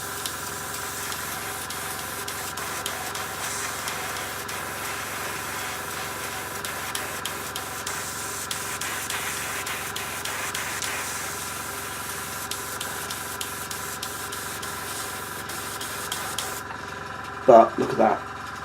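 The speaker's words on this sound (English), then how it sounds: "I'm having to gun the airbrush." An airbrush sprays paint onto a Blood Red Skies Spitfire Mk II model in a steady, close, continuous hiss that runs throughout, with a brief louder burst near the end.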